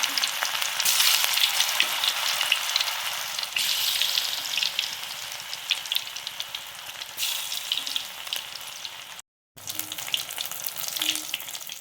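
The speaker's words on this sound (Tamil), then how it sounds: "இப்போ நம்ம பொரிச்சு எடுத்துடலாம்" Cauliflower 65 pieces deep frying in hot oil, a loud, steady crackling sizzle that fills the whole stretch with bubbling bursts, broken once by a brief moment of silence before the frying resumes.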